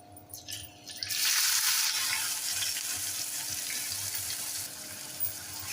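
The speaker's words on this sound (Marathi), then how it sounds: "कांदा फ्राय करून घेऊया." Finely chopped onion hits hot oil in a pan already holding cumin, bay leaf, cinnamon, peppercorns and cloves, bursting into a loud, steady sizzle that holds close and continuous with no talk.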